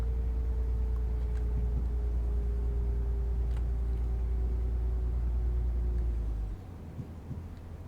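Class 185 diesel train braking in Train Simulator Classic on a snowy Hope Valley route, a deep steady rumble with a slowly falling tone that cuts off sharply near the end, leaving quieter low noise.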